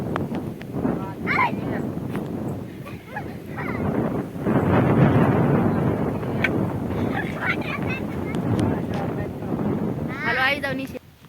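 Gusty wind buffets the microphone at an open sesame farm with neem trees, rising and falling in strong surges while people talk nearby.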